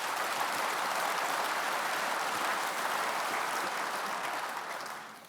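Sustained audience applause at the NFU annual farmers' conference, a dense, even wash of clapping filling the hall at steady loudness, then tapering off near the end with no talk over it.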